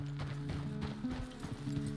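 Horse hooves clip-clop steadily in Red Dead Redemption 2 while a rider coaxes the animal along on a ranch, a rhythmic close-up patter over a low ambient game hum, with no talk during it.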